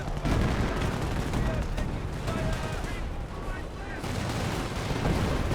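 Artillery fire in Company of Heroes 1, a dense barrage of booming blasts and crackling gunfire layered over continuous battle rumble, loud and close throughout with no pauses.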